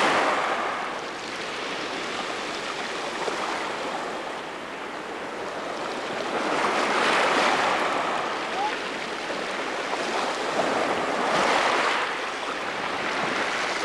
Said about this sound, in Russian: А сегодня волны, небольшой ветер.